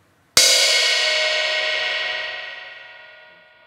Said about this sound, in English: when you hit the cymbal and you create an impact, the metal of the cymbal vibrates and resonates, creating that ringing out sound